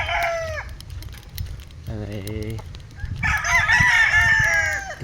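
Gamecock roosters on a farm crow loudly several times in succession, with some clucking, other birds and faint voices in the background.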